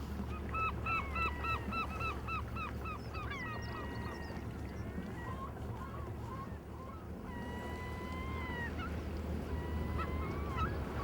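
Geese honk and call in quick repeated bursts on an island at high tide, moderately distant over a steady low rumble, with longer drawn-out cries later on.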